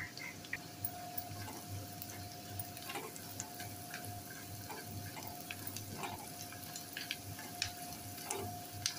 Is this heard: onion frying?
yes